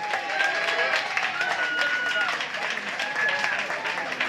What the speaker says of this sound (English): Let's give these three lovely young ladies a round of applause.